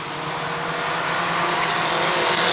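Mini Stock race cars roaring around the oval at Waterford Speedbowl, a loud sustained engine drone building slightly as the pack accelerates back to green.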